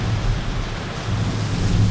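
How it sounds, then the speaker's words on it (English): Heavy winter rain from a storm passing over Kissimmee, Florida, roars steadily and close by, with a deep low rumble of thunder running underneath it throughout. "Look at this rain and thunder, and it's winter."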